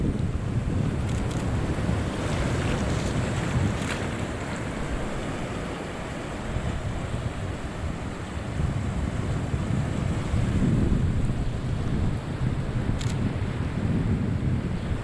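Sea surf washing ashore on the rocky Nash Point coast of Wales, a continuous loud roar of breaking waves and foamy wash with gusts buffeting the microphone, steady throughout with no talk.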